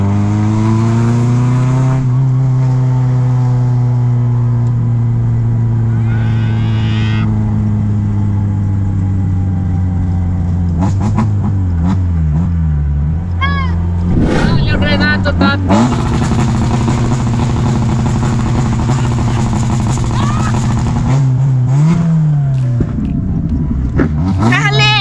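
Sports cars, including a Mustang and a Ferrari, pass along Avenida Europa, with loud engine roar and revving that rises and falls over steady traffic, and people talk throughout.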